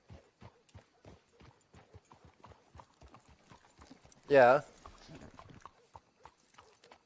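A horse walks in Red Dead Redemption, its hooves clip-clopping in a steady, even rhythm throughout, interrupted by a loud, brief neigh midway, with a short word of speech.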